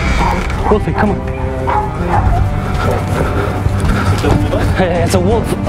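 A dog named as a wolf-like pet yips, whimpers and barks close by inside a taxi cab, its sounds mixed with steady engine and road noise while people talk over it.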